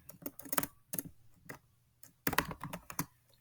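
Keys clatter on a Chromebook keyboard as a terminal command is typed, in quick irregular bursts of close, crisp clicks with short gaps between them.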